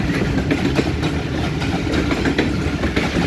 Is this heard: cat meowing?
no